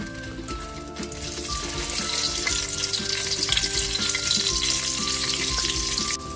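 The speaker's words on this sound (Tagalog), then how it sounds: "Magpiprito na tayo ng ating talong at isda." Eggplant and fish fry in a pan with loud, close, continuous sizzling and crackling, broken by scrapes and clinks of stirring utensils, and nobody speaks.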